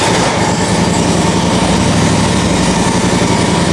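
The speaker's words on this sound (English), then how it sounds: "We'll start it up and let it, oops, a little too fast" Country Clipper zero-turn mower engine running steadily at a fast throttle, a loud continuous drone close by with no pauses or talk.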